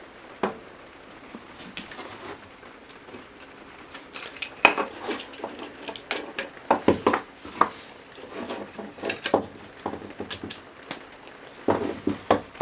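Chunks of metal pipe fittings clink and knock as they are slotted together, a series of irregular sharp taps and rattles, some louder, close up and with no talk over them.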